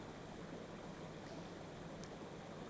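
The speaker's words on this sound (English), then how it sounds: "relaxing, pleasant sound of the water" Gently flowing stream water makes a soft, steady, distant wash with no breaks or distinct splashes across the short stretch.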